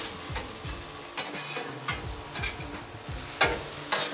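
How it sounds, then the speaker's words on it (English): Sausage and cabbage sautéing on a Blackstone griddle, a quiet, steady sizzle with scattered spatula scrapes and light taps, heard close and without speech. "We're just gonna let this saute for a couple minutes and then we'll come right back"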